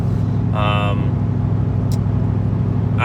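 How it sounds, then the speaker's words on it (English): A vehicle hauling a Jayco RV drives toward Chicago, its steady low road and engine hum continuous throughout, with a voice talking briefly over it. "I'm driving back towards Chicago with this Jayco I picked up"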